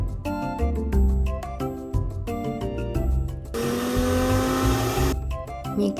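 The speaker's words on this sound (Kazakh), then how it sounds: "Миксер." An electric kitchen mixer in a children's cartoon whirs steadily for about a second and a half in the middle, set between bright sung or musical notes.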